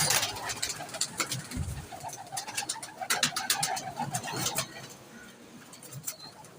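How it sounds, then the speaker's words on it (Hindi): Teddy pigeons coo softly nearby, with repeated low, throaty calls overlapping among the birds against a quiet background of faint rustling. "ये टैडी कबूतर हैं सारे"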